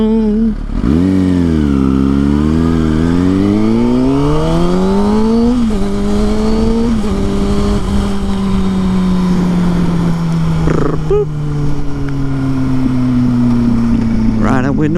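A motorcycle engine revs up through gears and then drones along at speed, loud and close, with strong wind rush over the mic and falling and rising pitch as the rider shifts.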